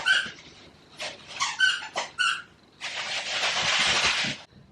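A dog gives a run of short yips and whimpering barks, close and moderately loud, followed by a longer burst of broadband noise.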